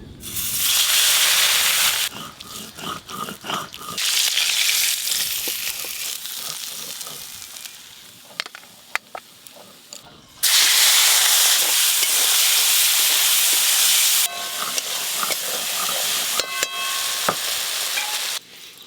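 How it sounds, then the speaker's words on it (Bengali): Pieces of fish, tilapia, frying in hot oil in a home kitchen, giving a loud steady sizzle with bursts of stirring and spatula scrapes; no talk. "আর 2 পিস মাছ ভাজলেই সব মাছ ভাজা হয়ে যাবে।"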